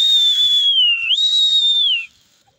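A single loud, sustained whistle used to call pigeons, a steady high tone that dips briefly midway and then rises again before cutting off, heard alone and close.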